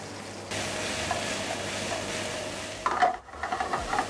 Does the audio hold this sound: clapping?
no